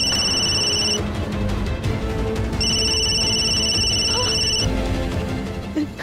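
A telephone rings indoors in two electronic bursts separated by a pause, bright trilling tones riding over a low steady background hum, with no one speaking.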